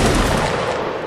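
Dense musket volley fire from a Napoleonic Wars line battle in Mount and Blade Warband, a loud continuous crackling roar of many overlapping shots with no gaps.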